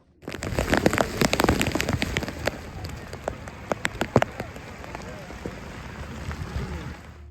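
Nonstop rain falls at Digha sea beach, a steady close patter with many sharp drops striking a nearby surface, loudest in the first few seconds and then settling into a softer, even hiss.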